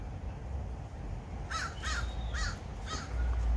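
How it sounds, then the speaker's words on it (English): A crow caws four times in a fairly even rhythm, clear but at moderate distance, over a low rumbling outdoor background. "Mom Crow"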